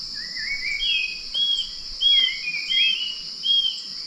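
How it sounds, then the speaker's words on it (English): Birds calling in a mountain village in Sulawesi: repeated clear, high whistled chirps and short trilling phrases come in several bursts over a faint, steady insect-like hum, with no talking. "Those exact bird calls."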